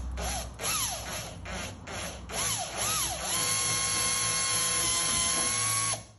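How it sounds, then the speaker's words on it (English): A power drill with a wood bit bores into a wooden door for a mortice lock, revving in short bursts at first, then running at a steady high whine for a few seconds before stopping. "just push the point of your wood drill bit into the door"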